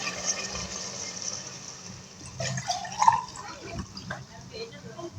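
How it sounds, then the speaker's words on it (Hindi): Water poured into a pan of fried chicken for biryani: a soft, gurgling splash and sizzle with faint dripping, fairly quiet and close, over light kitchen background noise. "हम डालेंगे पानी 2 गिलास और आधा गिलास डालेंगे।"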